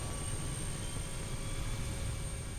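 A jet engine in the People Playground video game gives a continuous, even roar with a faint high whine running through it, steady and unbroken for the whole moment.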